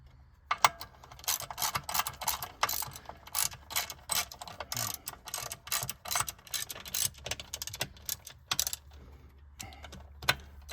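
A hand wrench snugs up the transmission pan bolts, producing rapid ratcheting clicks in irregular bursts of varying loudness close to the microphone, with short pauses between runs and no talking.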